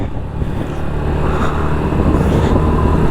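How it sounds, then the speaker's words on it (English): Motorcycle engine revving steadily and loudly during a wheelie in a parking lot, a close, continuous throaty drone with no break. "We're gonna do a little wheelie in the main lot here"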